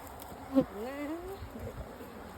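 Honey bees buzzing near a hive box during feeding, a soft wavering drone with one louder pass of a bee close by, over faint outdoor background.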